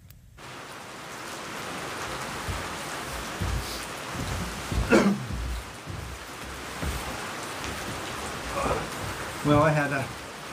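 Steady rain falls at a backpacking campsite, a dense hiss of drops on surfaces throughout, with occasional louder patters and soft low rumbles.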